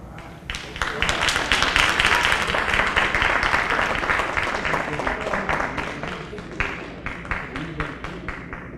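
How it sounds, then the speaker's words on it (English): A crowd at the Lakeland MLK oratorical contest gives a young speaker a loud, dense round of applause that holds strong for several seconds before thinning slightly at the end. "Give her another round of applause, please"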